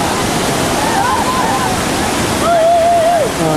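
Broadband rushing roar of a waterfall in Santosa village, Unurum Guay district, Papua, steady and close throughout, with voices talking over it.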